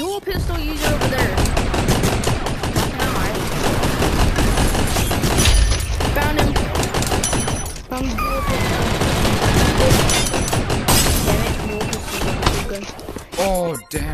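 Minigun fire in the online shooter Gun Raiders, long continuous bursts of rapid automatic shots broken by brief pauses, loud and close, with players talking over it.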